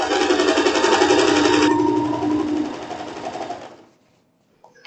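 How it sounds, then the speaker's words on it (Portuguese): A sewing machine runs a straight seam on a floral wrap dress, a loud, rapid, steady whirring that slows and stops after about four seconds, leaving near silence. "E a gente vem costurando, costura reta normal."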